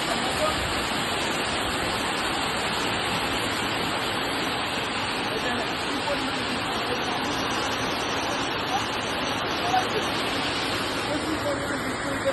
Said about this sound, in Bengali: প্রচুর পরিমাণে বৃষ্টি পড়তেছে।